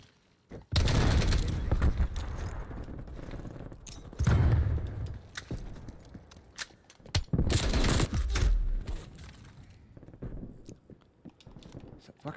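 Rapid bursts of PPSh submachine gun fire in the Call of Duty Black Ops Cold War video game, loud repeated volleys separated by short gaps, with a voice talking over parts of it.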